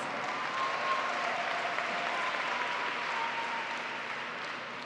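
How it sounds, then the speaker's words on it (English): A high school graduation audience gives sustained applause to special guests, a dense, even wash of clapping heard from a moderate distance with no talk over it. "Ladies and gentlemen, please recognize our special guests with a round of applause."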